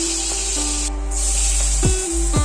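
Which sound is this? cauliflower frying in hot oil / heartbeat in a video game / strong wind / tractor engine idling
cauliflower frying in hot oil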